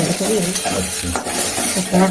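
New potatoes frying in a pan for a vegetarian meal, a loud continuous sizzle with stirring scrapes and shuffles running through it, close up and without speech.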